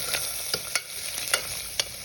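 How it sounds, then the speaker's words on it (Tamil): Ginger, green chili and onion being stirred and sautéed in a pan for coconut milk rice, with a steady hiss and several sharp spatula scrapes and clinks, fairly close and without talk. "மெலிச்சாக நறுக்கிற வெங்காயத்தையும் போட்டு வதக்கிங்கோ"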